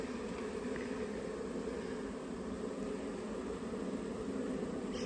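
Lost honey bees clustered together after equipment was moved give off a quiet, continuous buzzing hum that stays even throughout, mixed with soft airy background noise.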